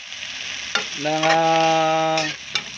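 Water spinach (kangkong) for adobong kangkong is stirred in a hot frying pan. A steady loud sizzle carries a squeaky tonal scrape from the utensil in the middle, with a sharp clank at the start and end.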